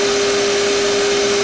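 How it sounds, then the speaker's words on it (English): Shop vac running steadily indoors, a continuous broadband roar with a constant motor whine, loud and unbroken throughout, no voices. "I am running the shop vac right now."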